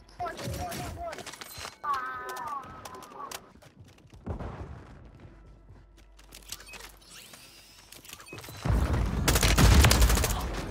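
Bursts of M4A1 rifle fire in the Rebirth Island video game come in rapid volleys, with loud sustained firing at the end, while players talk over the shots.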